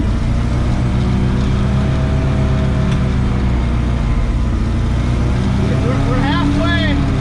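A 1978 Chevy ramp truck's engine rumbles loudly and steadily as the long hauler swings through a slow donut, with a faint squeal of rising tones near the end.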